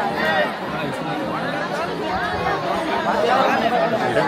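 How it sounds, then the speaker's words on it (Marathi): Crowd at Ekvira temple, a thick wall of overlapping chatter and calls that holds steady and close throughout, with individual voices surfacing now and then. "बाहेर जाण्याआधी पण एवढी गर्दी आहे."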